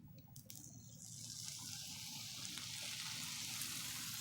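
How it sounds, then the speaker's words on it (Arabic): Sugar syrup poured over hot, freshly baked phyllo pastry rosettes, a steady close liquid pour and sizzle that begins softly and swells into a continuous hiss for several seconds, with no talking. "هنجيب بقى الشربات مباشره نسقيها كده اهو."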